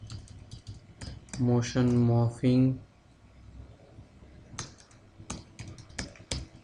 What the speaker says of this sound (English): Type a file name,